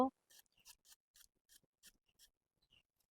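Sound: cutting potatoes into long pieces

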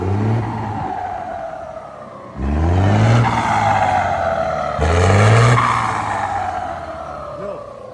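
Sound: truck engine revving with swapped turbo

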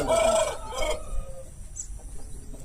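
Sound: rooster

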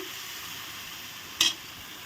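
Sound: sautéing chana dal masala in a pan, stirring

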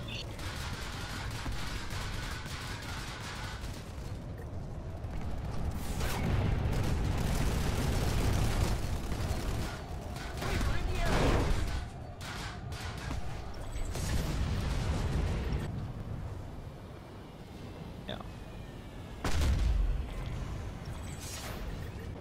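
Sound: anti-aircraft flak fire in the video game Planetside 2

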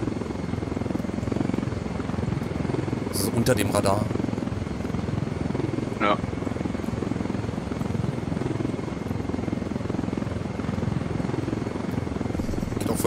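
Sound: helicopter flying low over water in the video game Ghost Recon Wildlands

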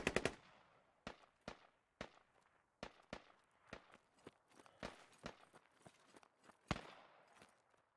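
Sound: gunfire in the video game Squad

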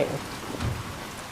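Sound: rain in the video game Resident Evil 7

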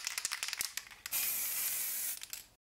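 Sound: spraying black primer onto a Darth Vader miniature

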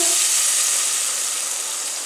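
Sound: water poured slowly into hot oil, sizzling

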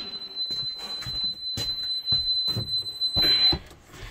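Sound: RV power inverter overload alarm

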